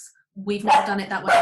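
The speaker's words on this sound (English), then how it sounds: "Sorry, that's the dog." A sausage dog barks and yips indoors, several sharp close calls running together, with a person speaking at the same time.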